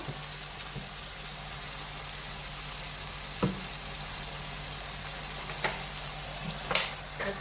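Mustard chicken frying in a pan with a little raw mustard oil and coriander leaves, a soft steady sizzle with a few brief clinks and stirring scrapes, close and fairly quiet, no talking.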